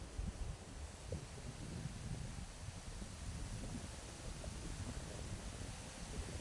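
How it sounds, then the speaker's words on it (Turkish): Steady, cool outdoor wind in Giresun, Turkey, blowing across the microphone after heavy rain, a continuous rumbling gust with soft rustle, fairly constant throughout with no voices. "çok serin, rüzgarlı"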